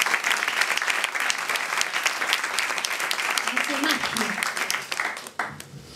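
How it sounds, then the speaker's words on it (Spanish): An audience bursts into sustained applause, dense and loud, with a few scattered cheers, before the clapping tapers off at the end. "Un aplauso para Eduardo Semerario."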